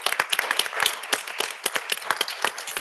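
Applause from the audience at a city council meeting in Passaic, loud, dense clapping from many hands that runs steadily throughout with no voices over it.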